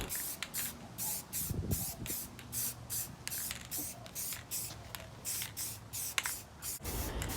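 Spray can putting another coat of primer on a Mandalorian helmet in a series of short, close hissing bursts with brief gaps between them, and no talk over them.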